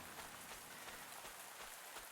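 Steady rain falling in the farming game Pumpkin Days, a faint, even hiss of drops pattering continuously throughout.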